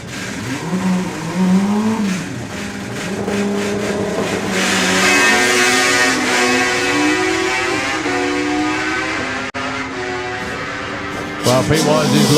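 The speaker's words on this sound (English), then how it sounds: "It looks like a snowmobile engine pro stock bike." Pro stock drag racing motorcycles at a national finals drag strip roar down the track with loud, rising engine revs building through the run, while a commentator talks over the engines.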